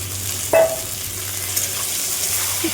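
Continuous sizzling of chickpeas frying in oil with a brief metallic scrape of stirring near the start, no talking.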